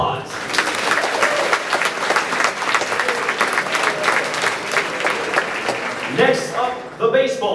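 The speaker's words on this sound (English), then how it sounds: "Give a round of applause." A sustained round of clapping from an audience at a college awards ceremony honoring student athletes and competitors, a dense, even crackle lasting several seconds before a speaker's voice returns near the end.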